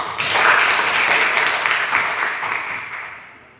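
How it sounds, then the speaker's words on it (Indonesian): A school class applauds together in a classroom, a brief dense burst of clapping that swells quickly and fades out toward the end. "Tepuk tangan lagi."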